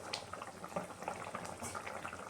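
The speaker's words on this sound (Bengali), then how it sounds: "ঝোলটা ফুটে গিয়েছে, মাছ হয়ে গিয়েছে" Sour fish curry gravy bubbling in a pot, a faint, continuous wet burble with small pops and no voices.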